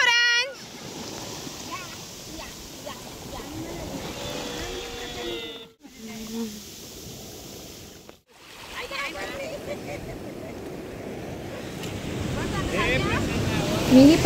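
Sea waves wash onto the shore at high tide in a steady, rushing surge with wind buffeting the microphone, while people talk over it throughout.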